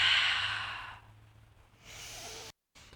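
A forceful exhale through the mouth during a Pilates roll-up, a long breathy rush that tapers off, followed by a softer second breath and a brief cut of silence.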